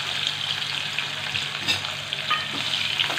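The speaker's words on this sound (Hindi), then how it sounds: "जब अच्छी तरीके से इसमें से चटक चटक आवाज़ आने लगे तो हम डाल देंगे इसके अंदर प्याज।" Oil sizzles steadily in a hot pan while onion is stirred and fried for a cabbage curry, with a continuous crackle and occasional scraping of the spoon, close and fairly loud, with no talking.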